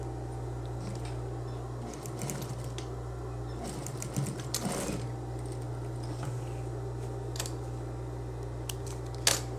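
A sewing machine runs in short bursts of stitching, going over a loop twice to reinforce it on a satin robe's belt loop. The sound is mechanical and clattering over a steady low hum, and no one speaks.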